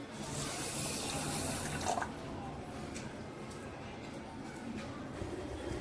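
A glass of water is poured over sugar in a pan to make sugar syrup for rava barfi. A splashing pour runs for about two seconds, then fades to a quieter kitchen background.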